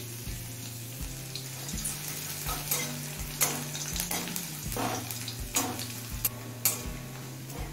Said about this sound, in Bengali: এবার দিচ্ছি 6-7 কোয়া কুচানো রসুন।